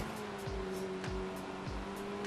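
A turbocharged front-wheel-drive car races in Forza Horizon 3; its engine holds a steady droning tone, with short rhythmic whooshes repeating about every half second, close and without any talk.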